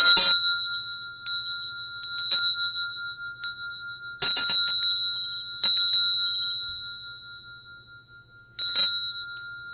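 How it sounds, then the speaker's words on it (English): A Tibetan hand bell shaken like an ordinary bell gives a series of bright, clanging metallic rings in irregular bursts, each left to shimmer and decay before the next, with no voices. "And you can also ring it like a normal bell."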